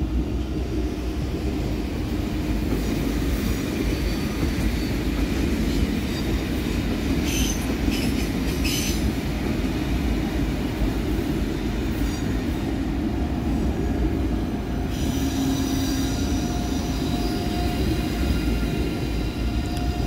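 ICE train at Cologne main station on Ascension Day, a loud, continuous rumble of rolling wagons with wheel clatter and occasional high squeals, passing close by for the whole stretch.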